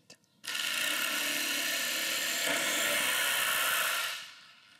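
A Festool Carvex PS 420 jigsaw switches on and runs steadily at full speed with a dense mechanical buzz for several seconds, then winds down, close up with no talk.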